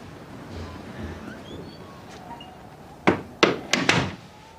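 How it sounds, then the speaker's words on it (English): Door shut in a quiet room: after soft background rustle, a few sharp knocks and a firm thud land in quick succession near the end, close and fairly loud. "Shut the door, Dad."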